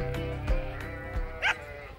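Sheep in a livestock handler fitted with an AutoMed individual animal health applicator give a short bleat near the end, over a dense harmonic background hum and a couple of low thumps.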